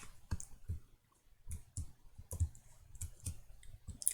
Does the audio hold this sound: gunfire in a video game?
no